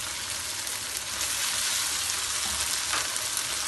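Vegetables frying in a pan for chowmein, a loud, dense, close-up sizzle with continuous hissing and popping, steady throughout with a brief clatter of stirring.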